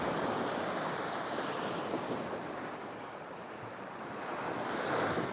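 Rough surf breaking along the beach at Hua Hin, Thailand, a steady loud wash of waves with wind buffeting the microphone throughout, swelling again toward the end.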